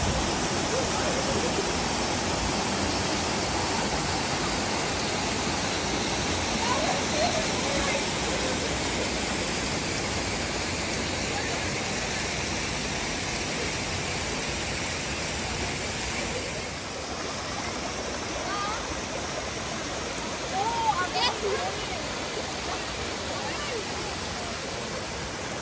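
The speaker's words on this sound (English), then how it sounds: "this is also the falls area" Water pours over Brown's River falls on Vancouver Island, a steady, close, full-bodied rush and roar that runs unbroken throughout with little change in loudness.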